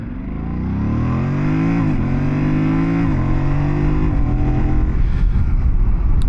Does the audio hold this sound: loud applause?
no